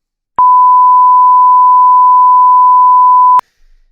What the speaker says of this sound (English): And here's 1000 hertz.